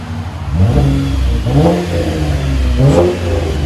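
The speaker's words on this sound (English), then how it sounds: "straight pipe, no mufflers, muffler delete. Chevy Impala LT." A 2012 Chevy Impala V6 with straight-pipe dual exhaust and muffler delete revs up several times, a loud, raspy exhaust roar rising and falling in repeated bursts close by.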